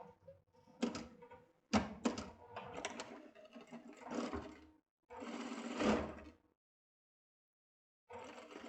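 A sewing machine runs in short, close bursts while hemming a buckled vest, with quick stitching rattles separated by pauses and one longer silent gap near the end.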